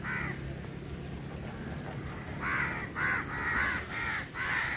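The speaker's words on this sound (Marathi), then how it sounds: "इथे कावळा आहे" A crow caws once, then several more times in a quick, fairly regular series, close by in a farm field near a nest with eggs, over a steady outdoor background hiss.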